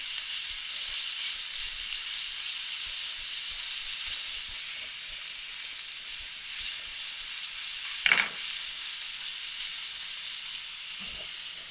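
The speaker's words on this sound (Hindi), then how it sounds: "इसको हल्का सा फ्राई करेंगे।" Garlic fries lightly in a pan with a steady, even sizzle and hiss throughout, broken by one brief clink or scrape partway through; no talking.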